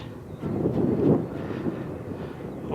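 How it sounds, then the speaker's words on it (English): A Cessna light aircraft drones overhead above open moorland tors, a steady low buzzing engine rumble rising and falling slightly, mixed with wind buffeting the microphone. "Big Cessna plane up there, buzzing around."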